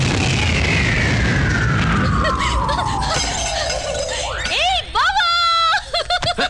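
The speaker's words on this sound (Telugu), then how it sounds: "ఫోర్నాలు బాంబుల్లా ఫేలిపోయినాయి ఏంటి?" Cinematic firecracker blasts in a Telugu action film fight scene, a long descending whistle sweeping down into booming bursts and crackling pops, loud and dense with music-like layers.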